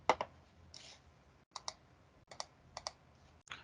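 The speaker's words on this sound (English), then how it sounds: "if I start typing, nothing is happening on there" Fingers type on a computer keyboard in Microsoft Word, sparse close clicks in small pairs and clusters separated by short pauses, quiet and alone.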